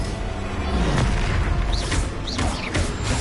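A Bombarda blast spell goes off in a video game: a booming, rumbling burst with creaking, mechanical swishes and rising whooshes layered over dense, continuous noise.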